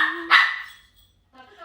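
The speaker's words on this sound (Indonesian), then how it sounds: "dan Jelly itu tipe guguk yang kalau misalnya dia ketemu sama orang baru dia tuh menggonggong ya guys" A pet dog gives one sharp, close bark, then a short fainter yelp, with a voice speaking nearby.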